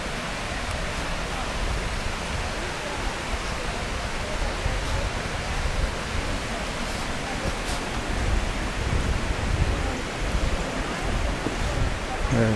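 Panther Creek rushes beside a forest trail, its broad, even water noise running steadily throughout at moderate loudness, with slight swells and a few faint knocks.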